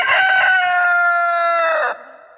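A rooster crows once, a loud, close, drawn-out cock-a-doodle-doo lasting under two seconds, heard alone with no talking.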